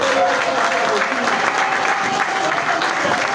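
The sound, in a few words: crowd applauding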